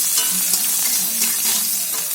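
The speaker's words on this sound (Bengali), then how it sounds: "রসুন কুচিটা ভালো করে লাল লাল করে ভেজে নিতে হবে" Chopped garlic fries in mustard oil until reddish, a constant close hiss and crackle with faint stirring underneath.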